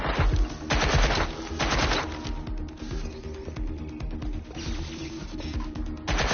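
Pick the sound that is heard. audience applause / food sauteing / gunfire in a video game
gunfire in a video game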